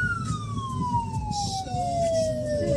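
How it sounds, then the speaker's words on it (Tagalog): Ambulance siren passing on a street, a single loud wail sliding steadily downward in pitch as it moves away, with traffic rumble beneath. "ano ba tong ambulansya na to?"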